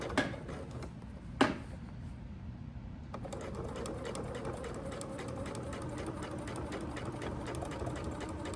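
Sewing machine running a forward stitch on a messenger bag: a short burst and a sharp knock, a brief pause, then a long, steady stretch of rapid, even stitching at close range.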